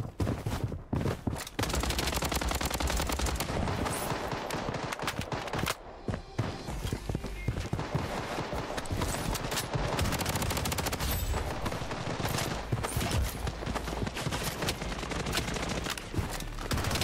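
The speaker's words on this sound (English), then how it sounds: "So many shots there." Rapid, relentless gunfire from the shooter game Blood Strike, close and loud, with continuous automatic bursts and scattered single shots running almost unbroken throughout.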